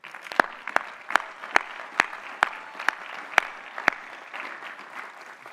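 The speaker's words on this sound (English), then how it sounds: "Please recognize the master's degree recipients with our hearty congratulations and applause." Applause from the crowd at a graduate commencement ceremony honoring master's degree recipients, a steady patter of clapping with a few sharper close claps standing out, at moderate level with no speech.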